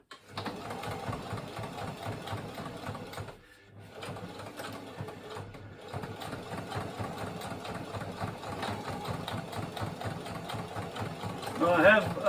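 Sewing machine stitching an ALICE pack shoulder strap, a rapid steady mechanical whir that drops out briefly near the middle then resumes, close by with a voice talking over it.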